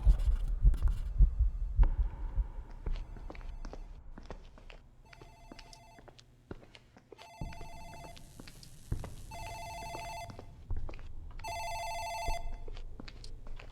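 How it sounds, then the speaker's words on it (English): An office telephone rings in the video game Dark Fracture, its repeated bell bursts starting partway through and growing more frequent toward the end, set against a low throbbing heartbeat-like pulse and sparse ambient clicks. "I think that's the phone in the office."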